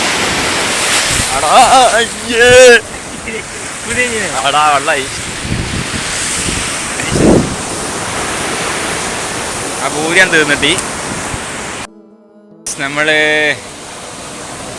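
Sea waves wash onto Kozhikode beach as a steady broadband roar, with people talking and calling out over the surf throughout.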